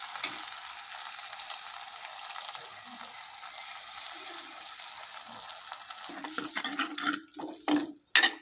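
Carrots cook in a pan and get stirred after tamarind water is poured in, a soft, steady sizzle with faint bubbling, followed toward the end by a few louder scraping stirs.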